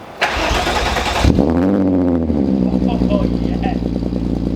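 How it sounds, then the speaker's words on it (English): A car's engine cold-starts with a brief cranking burst, then settles into a loud, steady, slightly high idle close by, while a voice speaks briefly over it. The car has a broken shift linkage and a damaged headlight. "You see some cold start action."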